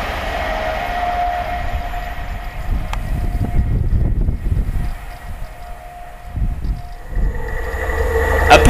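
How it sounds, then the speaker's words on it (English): An LNER Azuma train heading for London King's Cross passes a footpath level crossing at Beningbrough. The rolling rail roar stays loud and continuous, swelling and fading over several seconds, with a faint tonal whine above it early on. "LNER 801-112, passing towards London King's Cross, formed of an LNER Azuma service."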